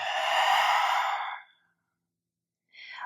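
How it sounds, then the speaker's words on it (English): A long, full exhale through the mouth during a slow somatic yoga flow, a soft breathy rush lasting over a second, then silence before the start of another breath, close and alone. "Full breath in, full breath out."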